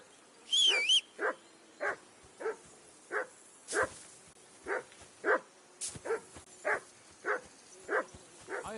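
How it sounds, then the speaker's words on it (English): A dog in the Kingdom Come 2 video game barks over and over in an even rhythm, about a dozen sharp, fairly close barks with a higher whine at the start, heard alone with no talk. "I assume you can hear that damn dog of yours barking."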